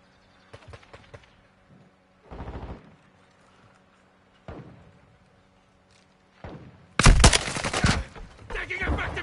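Gunfire in Call of Duty Modern Warfare 2 multiplayer, scattered quieter shots at first, then a loud, dense burst of automatic fire near the end, with brief game voice lines between.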